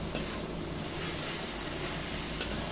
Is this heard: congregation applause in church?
no